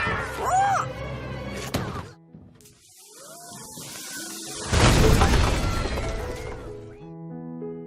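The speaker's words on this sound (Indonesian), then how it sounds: "Carmela menarik pelatuk senapan dan mengenai bubuk mesium hingga meledak." Gunpowder explodes in an animated film after a gun is fired, a sudden burst with crashing debris in the middle of the clip, following quieter cartoon voices and sound effects, with music resuming afterward.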